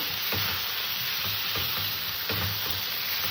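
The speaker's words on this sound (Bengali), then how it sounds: "পোস্ত বাটাটা দিয়ে গ্যাসটা আমি একদম ছোটো করে দিলাম তোমার পোস্তটাকে ভালো করে কষে নেবে" Poppy seed paste fries in a pan over a low gas flame, a steady close sizzle with soft rhythmic scraping as it is stirred, no voices.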